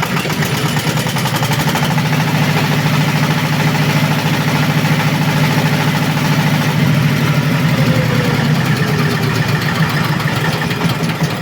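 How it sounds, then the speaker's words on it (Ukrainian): A homemade tractor engine runs steadily at full throttle around 1600 rpm, a loud, even mechanical drone close by with no break in its pitch. "1600 обертів, газ повний"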